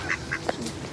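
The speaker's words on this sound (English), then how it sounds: "that one's a mallard" Mallard duck at a lake giving a few nasal quacks in quick succession, close and clear over a steady outdoor background, no talking.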